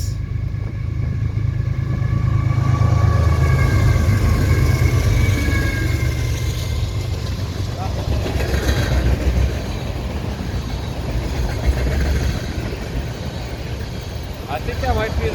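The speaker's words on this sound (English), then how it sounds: "I think that might be the same train we caught last weekend. The ethanol train." A CSX manifest freight train rolls past, with a loud, steady rumble and clacking of railcars over the rails close by, while people talk quietly over it.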